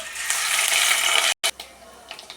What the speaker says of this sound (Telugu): ఆయిల్ హీట్ ఎక్కింది. క్లీన్ చేసుకున్న ఎండుమెత్తలు వేస్తున్నాను.